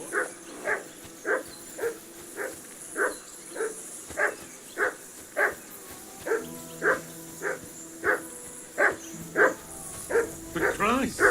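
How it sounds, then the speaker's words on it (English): A dog in the medieval video game Kingdom Come: Deliverance II barks repeatedly in a steady rhythm, about twenty sharp mid-distance woofs, joined near the end by overlapping louder barks and a whine. "Call off that damn dog before he wolfs down the last of our mates"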